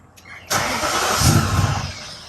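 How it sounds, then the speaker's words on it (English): A BMW E39 M5 V8 cranks briefly and then fires, settling into a loud, rough idle close by after its fuel pump upgrade. The whole clip is engine, with no talk. "Okay, and I'll see if it'll crank."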